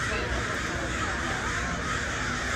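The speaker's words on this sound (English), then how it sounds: "Boy, those crows are loud." A large flock of crows caws in the evening near a 7-Eleven by Disneyland, blending into a dense, continuous wash of noise with voices underneath.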